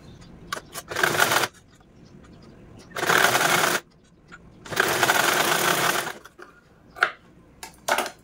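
Sewing machine stitching double-folded fabric piping in three bursts of rapid whirring, close and loud, separated by pauses with small clicks and fabric handling.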